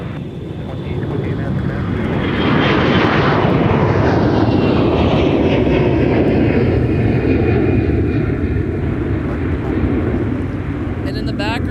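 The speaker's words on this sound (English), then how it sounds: "Southwest 411, turn left, heading 280, runway 30 left, clear for takeoff." Jet airliner taking off from a runway at Minneapolis–Saint Paul airport, a loud sustained engine roar building then holding steady throughout, with faint air traffic radio talk in the background.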